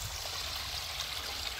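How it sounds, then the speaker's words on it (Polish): Cold spring water pours out of a hole on a hillside as a small stream, a steady close rushing and splashing that never pauses. "To już drugi taki potok z zimna, z góry wypływa."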